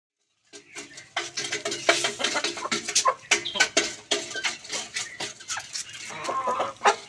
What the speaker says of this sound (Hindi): ये मुर्गे मेरे अपने घर के पाले हुए हैं